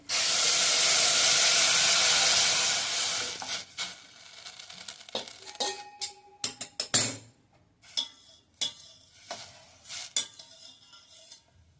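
Boiled water poured into a hot pan of roasting varai rice bursts into a loud steaming hiss for about three seconds, then dies into scattered clinks and scrapes of a utensil stirring in the pan.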